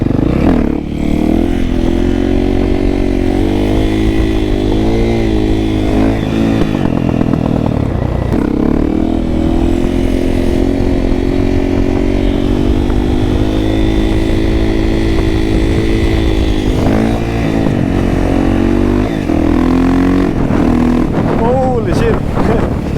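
A motorcycle being ridden hard, its engine a constant loud roar that climbs in pitch through the gears, with wind buffeting throughout.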